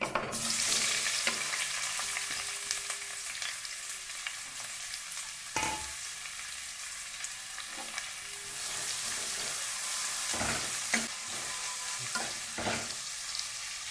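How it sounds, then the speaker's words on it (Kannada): Onions sizzle steadily in hot ghee and oil, a continuous close frying hiss with occasional scraping stirs and clinks of a utensil against the pan. "ಇದಕ್ಕೆ ಈರುಳ್ಳಿ ಹಾಕ್ತಾ ಇದ್ದೀನಿ."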